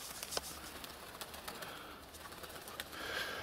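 Pigeons cooing close by in a snowy yard beside cats, soft throaty coos over a hiss of outdoor background and a few small taps and flutters, with no talking.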